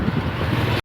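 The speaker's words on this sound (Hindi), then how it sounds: "इतनी तेज़ हवा चल रही है" Strong wind buffets the microphone while someone cycles near Sikar, Rajasthan. It makes a loud, steady, rumbling rush that roars throughout and cuts off abruptly at the end.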